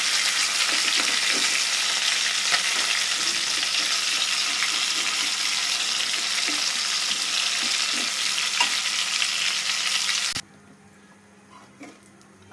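Rohu fish pieces frying in oil, a steady close sizzle with light stirring clicks that cuts off abruptly near the end, leaving near silence.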